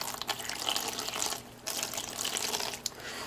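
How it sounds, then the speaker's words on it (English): Running water from a tap splashes over a Samsung Rugby Smart phone as it is rinsed, a steady close hiss with a brief break in the middle. "So let's just do a little rinsing."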